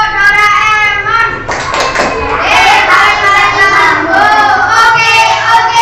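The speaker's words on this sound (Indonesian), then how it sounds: "tepuk Doraemon." A class of children performs a patterned group clap named after a cartoon character, rhythmic hand claps landing among loud chanting young voices.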